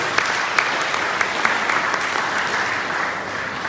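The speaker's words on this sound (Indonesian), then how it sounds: "Tepuk tangan dulu yang gemuruh buat kita." A church congregation breaks into thunderous applause at a year-end worship service, a dense, steady wash of many hands clapping close and loud throughout with no pauses.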